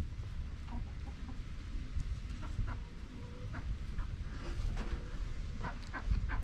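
Chickens cluck softly in a yard beside worm composting bins, scattered faint clucks over a steady low outdoor background.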